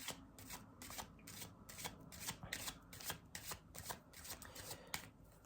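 Tarot cards shuffled by hand make a soft, quick run of riffling and sliding swishes in a fast, regular rhythm, close and quiet, with no speech.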